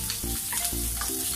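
Chopped onions sauté in hot oil in a pan while Pancit Sotanghon Guisado with pork liver is being made: a steady close sizzle with bursts of stirring, and low tonal hums underneath.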